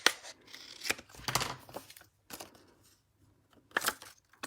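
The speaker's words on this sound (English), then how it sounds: "I'm just going to use my scissors." Scissors snip through paper while trimming a craft piece for stamping, with several short crisp cuts and crinkling bursts separated by quiet gaps, close and moderately loud.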